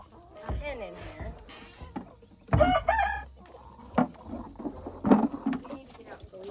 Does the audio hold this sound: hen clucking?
yes